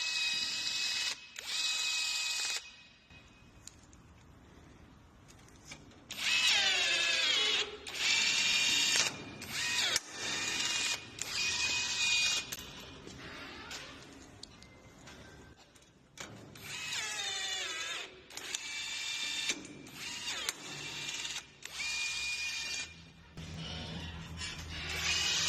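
A pop rivet gun sets rivets while a fire exit lock is installed. It gives bursts of loud mechanical ratcheting and squeezing strokes, separated by short quiet pauses.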